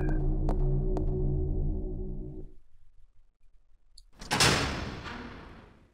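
A door opening in Resident Evil 0: after a fading game tone and near-silence, a loud close creak and scrape surges and trails off over a second or two.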